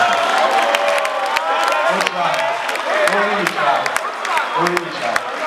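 A conference audience at a finance event in Lagos applauds and cheers, dense continuous clapping with whoops and voices rising through it, loud and sustained throughout.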